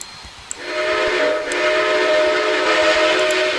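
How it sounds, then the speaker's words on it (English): A Southern Central Georgia six-chime steam locomotive whistle on Southern 630 in the Trainz train simulator game sounds one long, sustained chord blast that begins after a short pause and holds steady to the end. "I believe that's a Southern Central Georgia 6-chime whistle that 630 wore in 2014"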